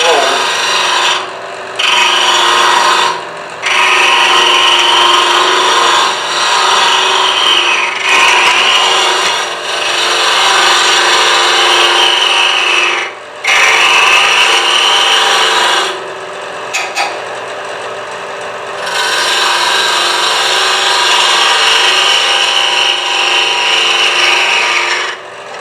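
Carbide hollowing tool cutting into end grain of an unidentified wood on a lathe, a steady loud rasping scrape that runs almost continuously, broken by a few brief pauses as the tool lifts off.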